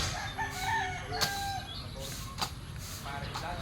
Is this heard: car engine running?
no